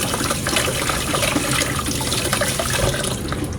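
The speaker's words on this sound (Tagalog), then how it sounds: "Lagay natin yung walnuts. Hugasan natin." Walnuts are rinsed under a running tap while making a soup, a steady, close rush and splash of water that continues without a break.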